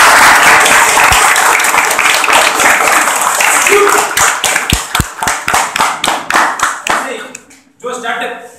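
Audience applause at a talk or workshop session, a dense patter of many hands that thins into a few loud, separate claps before stopping, with a voice speaking briefly at the end.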